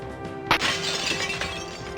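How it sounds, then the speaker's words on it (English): Glass smashing in the video game Alone in the Dark: one sharp shatter followed by a brief tinkling crash of fragments over a steady game ambience, no speech. "Why do I make a sound like a smashing glass?"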